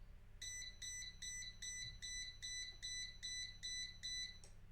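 An Arduino timer buzzer sounds once the set time runs out, giving a steady run of about ten evenly spaced shrill electronic beeps over a low hum.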